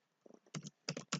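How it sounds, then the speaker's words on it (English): A few quick key presses on a computer keyboard, the backspace key tapped repeatedly in a short burst of close, crisp clicks. "Let me use backspace"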